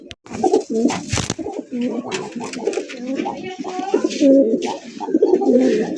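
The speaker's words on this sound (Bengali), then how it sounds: "এটা পাকিস্তানি কালপিট কবুতর ভাই" Several pigeons, including a Pakistani pigeon, coo repeatedly up close, soft rolling calls overlapping one another, with a sharp knock near the start.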